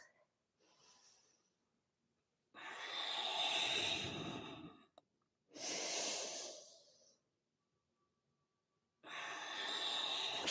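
Deep, loud breathing in a Pilates workout: three long, forceful exhales, each lasting one to two seconds, separated by quiet pauses, close to the microphone with no talking over them.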